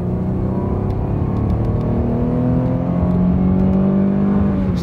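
An old high-mileage Chevy car accelerates hard down a small drag strip, its engine droning loud and continuous with rising pitch as it gains speed, heard from inside the cabin with no talk.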